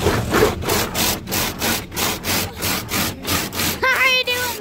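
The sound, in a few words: car wash brushes scrubbing the car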